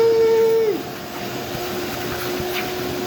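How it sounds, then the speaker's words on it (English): Vacuum cleaner sucking debris out of a wrecked Honda CBR 600RR motorcycle: a loud, steady roaring drone with a whining tone that drops in pitch early on, then a continuous rushing hiss. "I'm gonna try and vacuum as much of this shit out"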